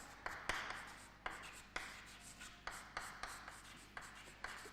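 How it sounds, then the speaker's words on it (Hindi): Chalk or marker scratches across a board during a 3D geometry lecture in short, regular strokes roughly every half second, each with a sharp tap at the start, faint and alone. "तो चलिए लिखता हूँ"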